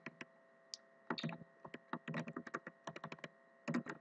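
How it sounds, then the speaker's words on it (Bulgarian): Typing on a computer keyboard while entering a project name, quiet close key clicks in quick irregular bursts with gaps, over a faint steady hum. "тук пишем името на нашия проект, който ще създадем"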